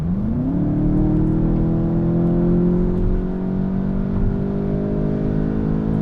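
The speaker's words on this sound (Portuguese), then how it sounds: "Deu para ouvir o ronco aí do motor, eu imagino, pelo meu microfone." A Volkswagen Jetta GLI engine with aggressive tuning roars and climbs steadily in pitch as it accelerates hard, a loud, close, continuous revving drone with no voices.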